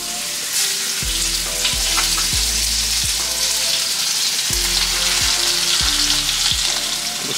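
Seasoned snakehead fish sizzles steadily in a hot pan, a dense, continuous frying crackle that stays loud and close throughout, with low humming tones running underneath and no voices.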